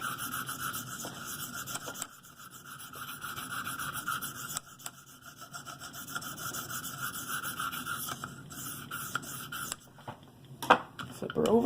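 A Buck 110 knife edge is polished on a KME sharpener's 1500 grit stone, giving close, repeated rasping strokes in an uneven rhythm with brief pauses, and a voice speaks faintly at times underneath.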